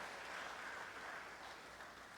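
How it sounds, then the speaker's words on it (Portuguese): Church congregation applauding during a sermon, a faint, distant, even wash of clapping with no distinct individual claps, steady throughout and fading slightly at the end. "Dá um aplauso a Jesus aí."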